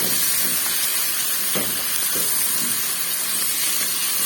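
Spicy achari potato slices are mixed in a hot pan. A steady hissing sizzle runs throughout, with a few faint scraping strokes from the stirring.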